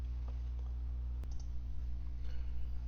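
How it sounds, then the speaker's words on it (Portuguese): A computer mouse clicks during an Excel spreadsheet lesson: a single sharp click stands out against a steady low background hum, with no speech. "Dá dois cliques em cima"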